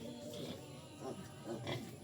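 A pig grunts in a few short, low, soft bursts spaced about half a second apart, faint against a quiet outdoor background.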